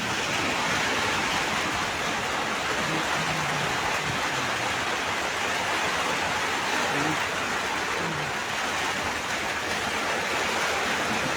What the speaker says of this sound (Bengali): প্রচুর বৃষ্টি হয় এখন